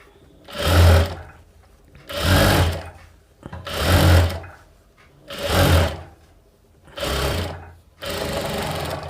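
Sewing machine stitching a princess cut blouse in loud, even bursts, about six runs of a second or so each, separated by short pauses.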